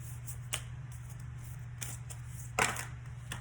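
Oracle cards being shuffled by hand, giving a few soft papery riffles and taps spread over a low steady hum, close and fairly quiet, no talking.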